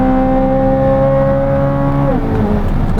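A Chevrolet Corvette Z06's 670-horsepower naturally aspirated V8 holds a loud, steady high-revving note for about two seconds, then the revs drop sharply and the engine settles lower.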